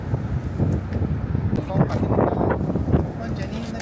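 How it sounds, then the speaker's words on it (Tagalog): Strong wind blows outdoors, rumbling and buffeting the microphone in steady gusts while voices murmur faintly underneath. "Grabe naman itong hangin dito, oy."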